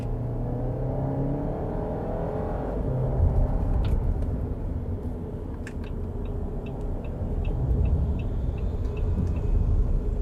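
A RAM Rampage Rebel 2.0 4x4 pickup accelerates in normal drive mode, heard from inside the cab: a steady engine rumble and road roar that builds in pitch and strength, with faint ticking sounds partway through.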